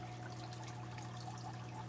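A small trickle of water runs over a dry, rubber-lined aquarium waterfall, a faint steady dribble against a constant low hum.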